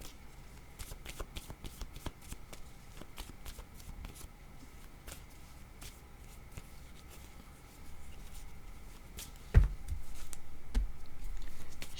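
Playing cards are shuffled repeatedly for a card reading, a steady run of close, crisp riffling bursts with no talk over them.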